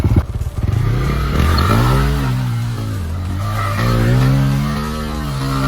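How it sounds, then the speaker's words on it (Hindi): A motorcycle engine revs and rumbles up close as the bike is turned around, loud with rising and falling pitch and a brief sputter at the start. "ये जो बाइक घुमा रहा है कुलदीप"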